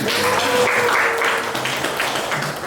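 Audience applause at a community gathering honouring a regional steering committee chair, a dense steady wash of clapping holding at full level for a few seconds with no voices over it.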